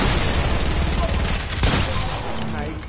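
Loud, dense gunfire from a PS4 battle-royale style game, continuous bursts and a sharp boom near the middle, with a player's voice talking over it.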